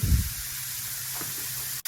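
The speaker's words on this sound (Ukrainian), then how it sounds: "Печериці нарізаю пластинами і обсмажую на сковорідці." A quiet, steady sizzle of sliced button mushrooms frying in a pan, a soft hiss running throughout with a brief thump at the start.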